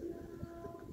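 Domestic pigeons at a dovecote give a low, soft cooing close by over a steady hum of background noise, with no voices.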